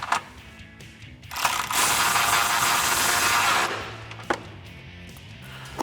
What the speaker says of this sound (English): grab a 13 millimeter shallow socket this time. And we'll get that tightened down.